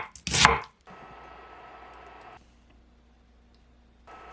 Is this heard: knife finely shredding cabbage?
yes